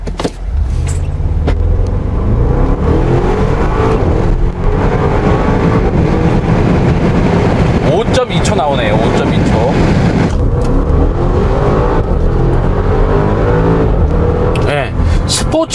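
A 2024 Bentley Bentayga V8 SUV with a 4.0-litre petrol twin-turbo engine, 550 hp and an eight-speed automatic, accelerating hard. A loud, steady engine rumble heard from inside the cabin rises through the gears, with a brief dip at each shift.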